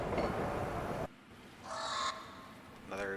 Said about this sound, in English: Another Talabrock bird.